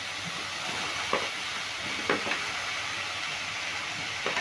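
Eggplant pieces fry with salt and turmeric in hot oil, giving a steady soft sizzle and hiss close by, with a few light clinks from stirring at intervals and no talking.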